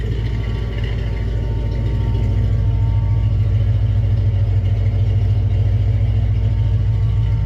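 A 351 V8 swapped into a Foxbody Mustang idles steadily with a carbureted setup, a loud, close, continuous low rumble with an even throbbing pulse and no voices over it.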